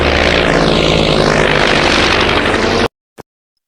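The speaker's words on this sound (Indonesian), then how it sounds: "memaksa si pilot untuk menerbangkan pesawat dan meluncur ke arah yang sama dengan si kapten" A propeller airplane roars loudly and continuously as it flies, its pitch sweeping down and back up, then cuts off abruptly into silence with one short knock after.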